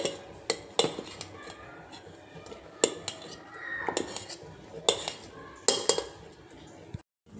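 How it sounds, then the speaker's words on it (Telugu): Chopped onion, carrot and cabbage tossed together in a kitchen bowl for a veg omelette, giving irregular utensil clinks and scrapes against the dish with soft rustling between, close and moderately loud. "కూరగాయ ముక్కలన్నీ ఇట్లా బాగా కలుపుకోవాలి"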